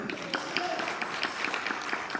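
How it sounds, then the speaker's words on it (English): An audience at a birthday celebration gives a round of applause, with irregular clapping close by and a voice talking under it. "Round of applause."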